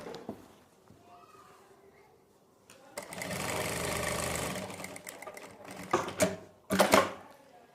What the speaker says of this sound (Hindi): यहाँ से हमें सिलाई लगाना स्टार्ट करना है